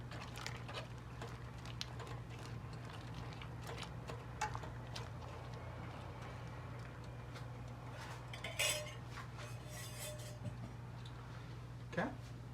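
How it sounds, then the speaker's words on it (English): A spoon stirs chicken katsu curry in a pot, giving light scattered metal clinks and taps over a constant low hum, with a couple of sharper knocks near the end. "Give that a quick stir."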